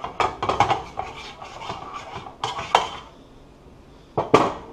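A utensil scraping and clattering against an oiled pan as chicken is mixed and spread out: clustered metallic knocks and scrapes, a pause, then a couple more sharp clanks.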